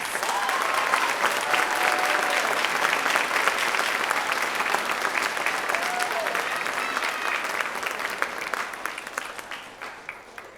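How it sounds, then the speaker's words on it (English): Loud, sustained applause from a school band concert audience at a middle school, a dense wash of many hands clapping for about ten seconds before slowly thinning out near the end. "Let's give them a round of applause."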